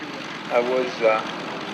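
A Grumman Bearcat propeller fighter flies at the Flying Legends airshow, giving a steady, distant engine drone that runs under two short bursts of voice.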